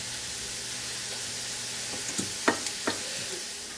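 Onions fry in a pan over fairly low heat, a steady hiss of sizzling broken by a few soft stirring scrapes near the end, close up and with no voices.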